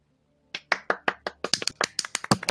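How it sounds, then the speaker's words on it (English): A small group clapping at an online gaming guild's transfer ceremony, a burst of scattered, uneven claps starting after a brief silence and picking up in density. "Very clap. Much clap."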